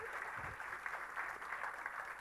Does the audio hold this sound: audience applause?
yes